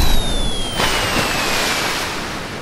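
Sea waves wash onto the shore, a loud broadband rushing surge that swells and ebbs steadily under a faint high whine, with no talking.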